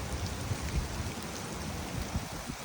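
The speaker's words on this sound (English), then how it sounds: "the rain's starting to come back down pretty hard again." Heavy rain pours down close by, a dense continuous roar of drops hitting the ground.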